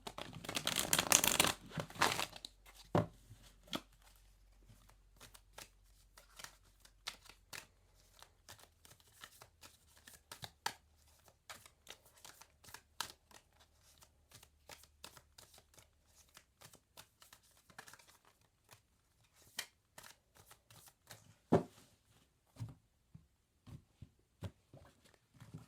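Tarot cards are shuffled close up, a loud riffle at the start followed by a long run of soft, irregular card taps, slides and flicks in a quiet room.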